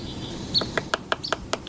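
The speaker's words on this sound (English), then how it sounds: "It is a small bird, a very small songbird." A very small songbird with blue-gray upperparts gives a run of short, high, evenly spaced chip notes, about one every fifth of a second, heard fairly close over faint background noise.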